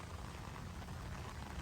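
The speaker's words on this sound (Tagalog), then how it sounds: "ang malakas na patak ng ulan dito" Heavy rain pours down steadily outdoors during a storm in the Philippines, a dense, even hiss of drops with no break, fairly faint and with no voices.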